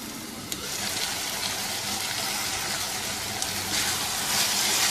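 Water poured into a pan of cooking keema makes a continuous hissing, sizzling gush, moderately loud and steady, swelling slightly toward the end, with no talking.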